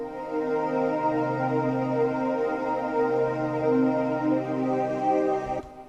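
A synthesizer pad holds a thick, steady sustained chord with rich layered harmonics and slow shimmering movement, loud and continuous before cutting off abruptly near the end, with no voices.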